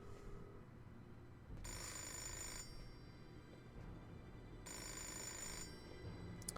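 Phone ringing inside a building in the game Fahrenheit (Indigo Prophecy): two long bell-like rings separated by a pause, clear over a low ambient background with no talking.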